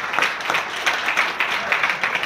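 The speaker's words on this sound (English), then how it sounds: "I just think that deserves another round of applause." Applause from an audience at an awards event, a soft continuous patter of clapping heard from a distance and fairly quiet.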